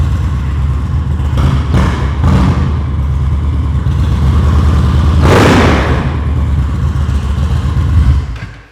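An Indian motorcycle engine revs loudly up close with a rough, throaty roar and a sharper burst partway through before fading at the end.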